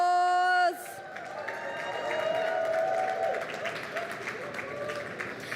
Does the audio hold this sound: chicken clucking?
no